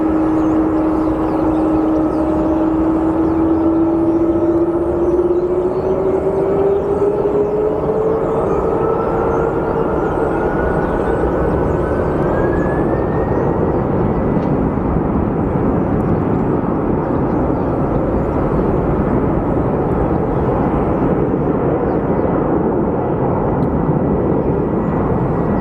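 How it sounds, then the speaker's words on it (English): An Airbus A320neo jet at Phoenix Sky Harbor Airport roars steadily and loudly throughout, a broad continuous engine rush with a whine sliding upward as it passes, heard alone without talk. "Wait, is that another A320neo?"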